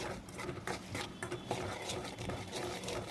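A spoon stirs and scrapes coarse roasted peanut powder in a pan, producing quick, irregular scratchy strokes and soft gritty patter at close range, fairly quiet and without talk.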